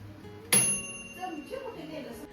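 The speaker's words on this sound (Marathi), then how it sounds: "टाईम झालं ना की ऑटोमॅटिक हा ओव्हन बंद होतं, म्हणजे 1 घंटी वाजते" A single sharp ding from a home oven timer bell marks the end of baking bread rolls, bright and ringing, then decaying into a quiet room where a voice murmurs faintly.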